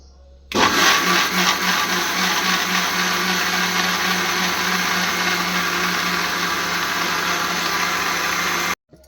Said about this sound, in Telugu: ఇప్పుడైతే మిక్సీ అయితే పట్టేస్తాను.